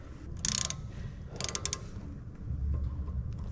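Needle nose pliers working on a car brake assembly during a brake pad and rotor change, giving a few quiet metallic clicks and scrapes in short bursts, with no talking.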